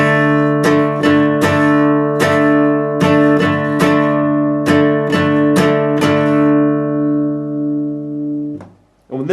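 A guitar chord strum pattern played slowly, about a dozen evenly spaced strokes ringing close and clear over sustained harmonics, alone with no voices, fading out at the end.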